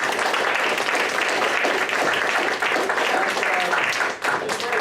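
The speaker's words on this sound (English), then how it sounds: "I'd like us to give a round of applause to our wonderful panel." An audience at a talk on life in the Anthropocene gives the panel a warm round of applause, continuous dense clapping close by with a brief dip near the end and faint murmuring voices mixed in.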